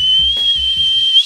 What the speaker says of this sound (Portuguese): Vamos ver se eu consigo assobiar